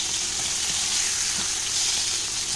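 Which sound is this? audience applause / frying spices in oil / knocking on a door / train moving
frying spices in oil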